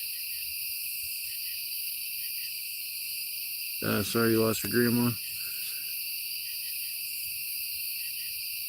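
Crickets and cicadas chirp in a steady, unbroken outdoor drone at night, while a single voice speaks briefly in the middle.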